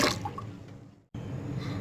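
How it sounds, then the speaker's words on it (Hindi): Water is poured into a pot of lentils, cracked wheat and chana dal for haleem, giving close liquid splashing and dripping that breaks off briefly near the middle and then resumes. "इसके अंदर अब पानी डाल के"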